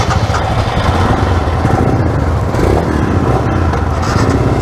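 Royal Enfield motorcycles idle together at the start of a group ride, a loud, dense, continuous engine rumble close by with no break.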